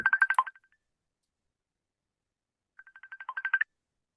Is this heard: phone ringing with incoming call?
yes